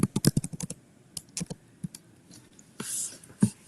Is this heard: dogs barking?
no